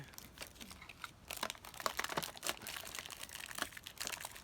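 A plastic bag from an advent calendar crinkles and rustles as it is unwrapped and pulled apart, a quiet, close, irregular stream of crackles and crunches with no talking.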